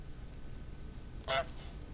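A single short goose honk from the Untitled Goose Game goose sounds once, clear and fairly loud, over a low steady background hum, with no voices.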